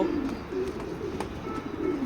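Racing pigeons coo in low, repeated throaty murmurs, close by and overlapping, with no talking.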